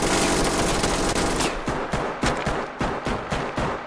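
Gunfire in the tactical shooter game Ready or Not comes first as a dense, continuous roar of rapid shots. It then breaks into distinct, evenly spaced bursts of loud shots, close and punchy.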